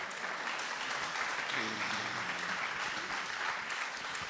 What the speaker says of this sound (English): Let's have a round of applause for Suzanne.